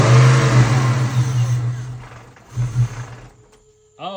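A 1996-98 Mustang Cobra engine fitted with a 2.1 Kenne Bell supercharger roars loudly up close, then its revs sag and surge again briefly before dropping away, leaving a faint whine and a short voice at the end.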